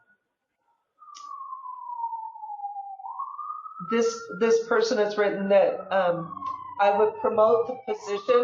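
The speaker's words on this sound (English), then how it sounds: "I'm so sorry about that siren that just went by." Emergency vehicle siren passing outside, a single falling then rising wail that continues faintly under someone speaking at an online meeting.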